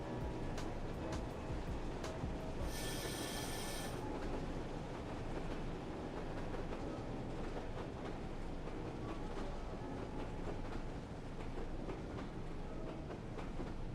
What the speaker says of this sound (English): I do love the clickety clack